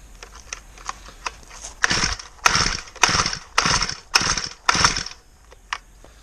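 Repeated pull-starts on a Honda GX35 kayak motor: about five rasping recoil pulls in a row, each a short whirring burst with ratcheting clicks between, close by, and the engine never catches.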